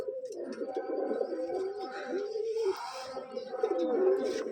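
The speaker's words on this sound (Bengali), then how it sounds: "এটা আসলে শখের কবুতর" Pigeons in a farm loft coo repeatedly in low, rolling warbles, several birds overlapping close by, with faint chirps in the background.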